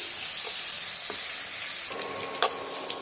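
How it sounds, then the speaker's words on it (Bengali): Large garlic cloves fry in hot oil with a bright, steady sizzle up close. Partway through the hiss drops a little, and a few faint stirring taps break it. "রসুনটা আমি একটু হালকা লাল লাল করে ভেজে নিচ্ছি"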